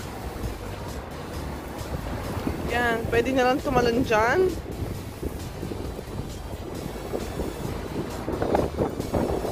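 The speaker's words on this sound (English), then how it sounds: "It's so windy, guys." Strong, cold wind buffets the microphone with a constant roar outdoors at Meriton Kent Street, Sydney, while people talk briefly over it.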